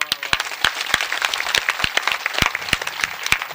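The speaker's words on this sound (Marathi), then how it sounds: "सगळ्यांसाठी एकदा टाळी वाजवा." A crowd at a devotional kirtan gathering in Borgaon claps together, with sharp, distinct hand claps falling in a loose rhythm over a denser bed of scattered applause, close and lively with no speech.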